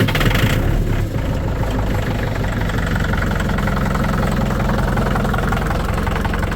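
A vehicle engine idles in cold weather while warming up, a continuous low rumbling drone with a steady fast pulse, close and unchanging throughout.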